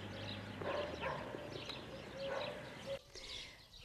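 Dogs bark at an animal shelter where dogs and cats roam freely on a large open plot, a few separate barks rising over steady background noise.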